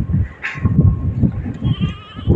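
Goats bleat for water at close range, a few loud, wavering calls rising over a low rumble of rustling and movement, repeating at short intervals.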